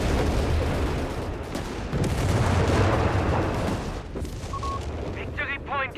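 Mortar rounds fire and impact in Company of Heroes 3, with dull booming blasts and rumbling explosions under continuous battle noise, followed by a short mechanical effect near the end.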